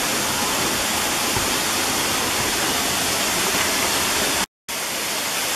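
Swatara Falls in Schuylkill County, Pennsylvania, roars as a continuous, dense rush of falling water heard up close on a hiking trail, steady and loud with no voices.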